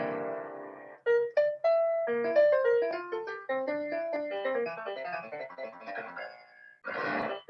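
AI-generated classical-style piano notes play a flowing melody with chords, clear and close, shifting through quick runs and sustained tones before a brief burst of noise at the end.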